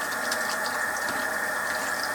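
Tap water runs steadily in a constant, hissing stream, close by, rinsing starch from cut red potatoes, with no talking.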